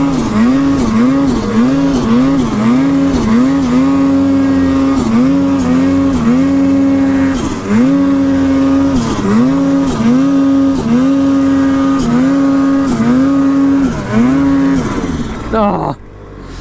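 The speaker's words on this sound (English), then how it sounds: "We'll see if the snow bike can make it out." A snow bike engine strains to pull out through snow, revving loud and close in repeated surging bursts with wavering pitch before dropping off near the end.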